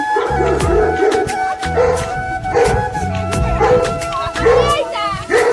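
Repeated close dog barks and yips in quick bursts, mixed with people talking nearby.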